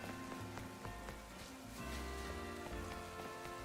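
Steady rain patters and hisses over a soft, broad background of falling drops in the video game Pokémon Legends: Z-A, constant and fairly faint throughout with no talking.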